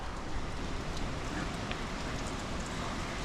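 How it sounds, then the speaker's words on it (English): Wind and rain outdoors at a homestead container build site: a steady, dense hiss of rainfall and blowing wind filling the whole scene at even loudness, with no voices. "It's really windy and rainy out here."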